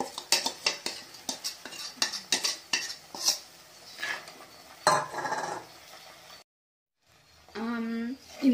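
A spoon scrapes and clinks against a pan again and again as thuvaiyal is sautéed and stirred in oil, the sharp strikes giving way to a brief silence and then a short voiced sound near the end.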